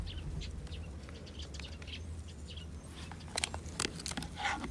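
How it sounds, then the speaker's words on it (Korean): Sparrows chirp and twitter at an outdoor fishing spot in spring, faint and somewhat distant, scattered short calls that grow busier toward the end over a steady low rumble of wind and ambient noise, with no talking. "참새들이 쟤네들이 자꾸 째깨거려가지고 장소 이동이에요"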